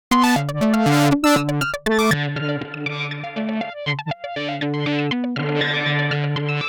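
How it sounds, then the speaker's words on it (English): A distorted electric guitar, run through cabinet emulation on a Boredbrain Injectr Eurorack module, plays chunky chords and single notes with a thick, boxy amp-like tone, loud and close, with no voices. "so you can just hear the cab emulation that I have going on with Injectr"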